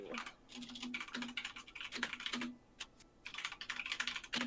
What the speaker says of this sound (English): Keyboard sounds. Oh, so luscious. Loved clickety clacks.